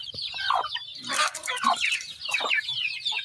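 Chickens clucking around a hen with a newly hatched chick, close, irregular clucks and soft calls mixed with faint high peeping over quiet background.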